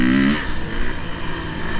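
A four-stroke enduro motorcycle opens up at full throttle, a sharp rising engine snarl that breaks into a rough, gritty roar and carries on loud and close.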